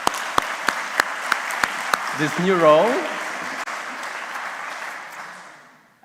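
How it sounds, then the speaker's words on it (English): A conference audience applauds briefly at a session. A few sharp claps come first, then a spoken phrase, then a soft wash of clapping that gradually fades away. "I think we can applause for a moment to Dalila for"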